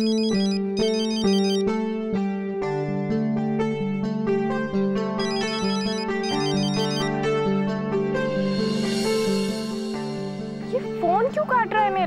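A mobile phone plays a melodic electronic ringtone for about twelve seconds, loud and close, with repeating chime-like note patterns and no talk over it.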